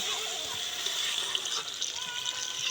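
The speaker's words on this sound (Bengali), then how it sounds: "এবারে একটু জল ঢেলে দেবো" Water pours continuously into a pot of meat curry with coriander leaves, giving a steady, close rush of liquid throughout the short stretch.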